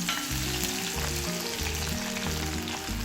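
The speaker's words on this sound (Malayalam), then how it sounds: "എണ്ണ ചൂടായി കഴിയുമ്പോൾ ഇതിലേക്ക് ചതച്ച് വെച്ചിരിക്കുന്ന കൂട്ട് ചേർക്കാം." Crushed shallots, dried chilli and curry leaves frying in hot coconut oil, a loud, dense, close sizzle with rhythmic stirring scrapes running throughout.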